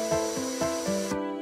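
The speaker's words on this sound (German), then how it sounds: "Der Pendelstab muss wegen seiner Länge freihändig gebohrt werden." A power drill bores freehand into a long wooden clock pendulum rod, giving a steady, whining motor tone with grinding cutting bursts, then cutting off abruptly near the end.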